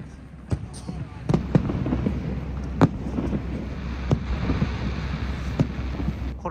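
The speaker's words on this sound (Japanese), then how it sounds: "20時、花火が打ち上がりました。" Distant fireworks at Niagara Falls bursting one after another, sharp thuds and crackles spaced irregularly over wind noise and low rumbling.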